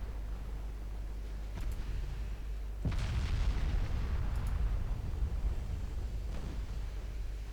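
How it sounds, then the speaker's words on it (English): Heavy cruisers' 8-inch naval guns fire in the warship game Ultimate Admiral Dreadnoughts: a deep boom bursts in at the midpoint over a constant low rumble of battle, followed by fainter distant reports. "the 8-inch guns on these heavy cruisers already opening up on the enemy DDs"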